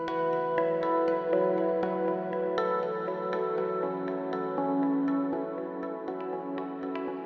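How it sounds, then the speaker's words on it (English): A VCV Rack patch built around a Resonator module plays a run of plucked, ringing synth notes with sharp attacks and sustained harmonic tails, varying in density and intensity, moderately quiet and with no talk. "use the Resonator module to play notes and have it vary in intensity over time"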